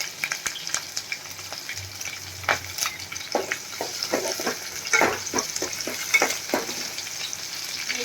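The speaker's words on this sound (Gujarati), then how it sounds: "તેલ થોડું ગરમ થાય એટલે આપણે એમાં મીઠા લીમડાના પાન એડ કરશું અને આપણે આ આદુ મરચાં નાખી દેશું" Curry leaves, ginger and green chillies sizzle and crackle in a spoonful of hot oil for a Gujarati dry potato bhaji, with close, sharp pops over a steady frying hiss.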